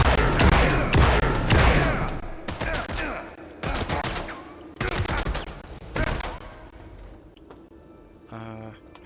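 Enemy gunfire in the System Shock remake, loud rapid bursts in several separate volleys with short gaps between them, fading out near the end before a few short electronic beeps.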